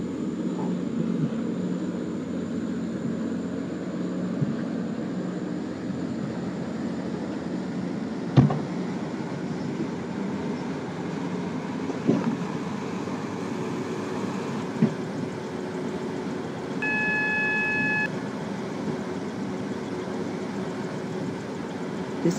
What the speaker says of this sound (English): This is a Connect train to Morganstown.